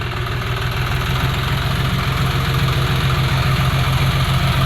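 A farm tractor engine idles steadily and close by, a continuous low, rhythmic diesel chug with a faint knocking pulse that holds at an even level throughout, with no voices over it.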